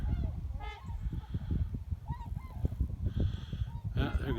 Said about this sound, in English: Bye, geese. Stop by my pond anytime.